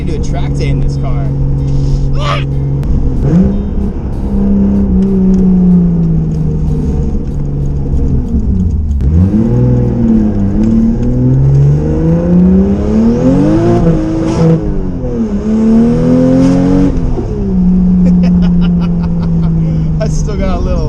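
A restored Toyota Supra MKIV engine revs and accelerates while driving, loud rising and falling engine tones through gear changes, with excited talking over it.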